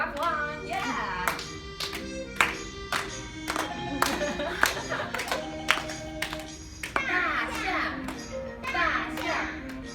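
Hands clapping along to a children's song with singing kids, sharp irregular claps recurring through the clip under voices and music.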